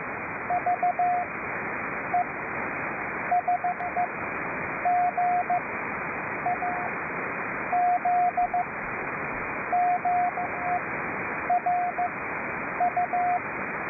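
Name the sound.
Morse code (CW) signal on shortwave radio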